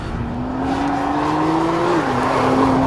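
A 2014 Nissan GT-R Track Pack drones at steady high revs around a racetrack, its engine note climbing smoothly then dipping slightly as it shifts, loud and continuous with tire noise underneath.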